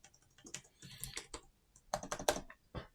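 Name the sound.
typing on a laptop keyboard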